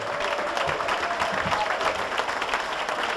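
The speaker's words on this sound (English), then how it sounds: "give a big round of applause to the recipient of the Andrew S. Fusco Award for Media Excellence, Ron Hedger" An audience applauds a media excellence award recipient at a dirt modified racing hall of fame induction ceremony, with loud, dense, sustained clapping from a large room and faint crowd murmur beneath.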